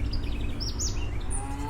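Bird calls at Medellin Zoo in Colombia: a few quick, high chirps and sweeping whistles over a low murmur of background noise, fairly faint and scattered across a brief moment.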